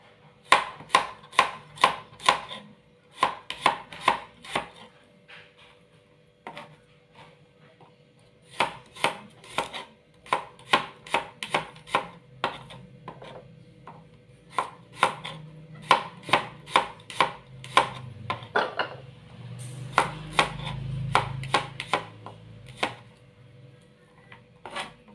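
A knife chops garlic on a cutting board in quick, steady bursts of sharp taps with short pauses between runs, close and clear, with no talking.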